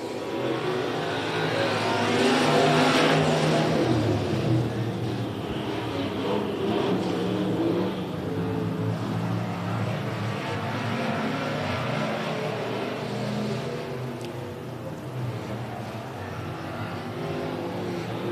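Race cars roar around Big O Speedway, a sustained blend of engines accelerating and passing at varying distance, loud and continuous without talk.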